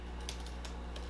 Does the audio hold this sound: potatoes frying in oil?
no